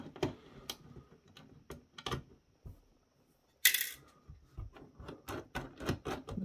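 Small screws from an Apple AirPort Extreme A1034 teardown dropping and clattering onto the top of the unit, a scattering of sharp close ticks and clinks with one brighter rattle midway, quiet background, no speech.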